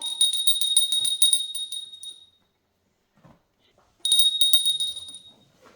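A small bell rings in two bright, rapidly shaken jingling bursts, loud and close, with a quiet pause between them.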